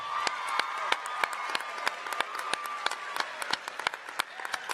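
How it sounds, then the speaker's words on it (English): An audience at a school event applauds, a steady patter of many hands clapping with occasional sharper individual claps, faint crowd noise beneath, no speech over it. "Let's give Alex a round of applause."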